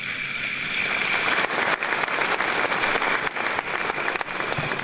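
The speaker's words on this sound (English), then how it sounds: "I think this deserves an applause." Audience at a law school honorific lecture applauding, a sustained dense round of clapping from a large crowd in a hall, steady and fairly loud throughout.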